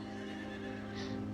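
A horse whinnies softly over a steady low background hum, one drawn-out call that rises briefly near the end.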